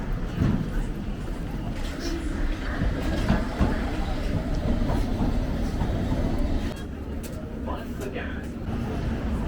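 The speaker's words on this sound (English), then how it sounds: "I'm just waiting to jump on the train to Hammersmith." A London Underground train bound for Hammersmith gives a steady loud rumble and rattle from the carriage, with faint clicks and squeaks throughout and a slight dip partway.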